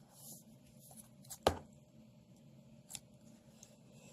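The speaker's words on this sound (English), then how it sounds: "you gotta snip this" Scissors snip the yarn loops on a handmade mini chain chomp plush: one sharp, close cut stands out, with a fainter click after it, in a quiet room without talk.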